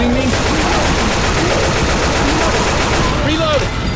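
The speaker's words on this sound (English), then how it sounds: "Can you stop shooting me?" Rapid automatic gunfire in Left 4 Dead 2, loud and dense, with continuous bursts filling the whole stretch and a brief shout-like tone near the end.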